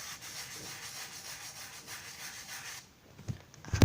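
Steady, close scrubbing of a skateboard grip with a toothbrush, soft rhythmic rubbing strokes that run on evenly before stopping, followed by a few faint knocks and handling sounds.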